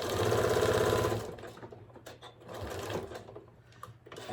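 Sewing machine stitching a cover for a solar power bank, running in a fast steady whir for about a second, then quieter intermittent bursts of stitching with pauses.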